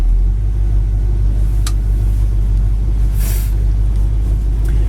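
A 1967 Oldsmobile Cutlass convertible idles in drive with a steady, deep rumble that holds even throughout, with a couple of faint clicks over the top.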